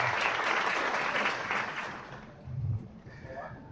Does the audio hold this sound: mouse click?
no